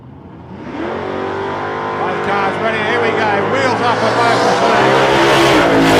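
Two drag racing cars, a panel van and a Toyota Tiarana, make a pass with a loud, rising engine roar that builds steadily over several seconds while an announcer talks over it.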